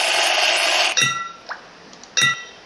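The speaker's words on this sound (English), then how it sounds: "this sounds a bit like this tin" Three sharp metallic clinks of a gavel on a tin can in a video game, the first cutting off a noisy hiss, then a faint tap and a final bright ringing strike, each decaying quickly.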